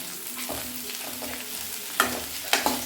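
Chopped ridge gourd sautés in a pan, giving a soft continuous sizzle with occasional stirring scrapes and two sharper clinks near the end, fairly quiet and close.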